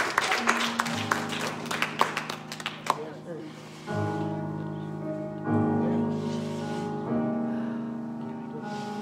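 A church congregation claps during worship, a burst of sharp, close hand claps for a few seconds that gives way to sustained music.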